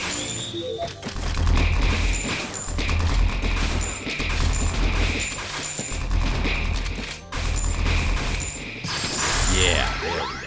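Rifle and shotgun fire in an RPG Maker video game: dense, continuous rattling volleys of gunshots and crashing impacts with game sound effects, loud and sustained with brief gaps.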